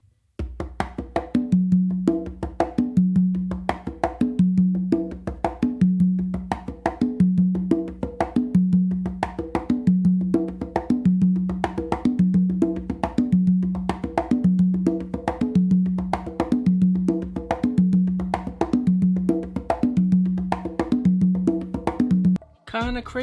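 Three congas play a songo rhythm with open tones on the tumba, a steady, close, repeating pattern of crisp slaps and resonant open strokes that runs alone until it stops abruptly at the end.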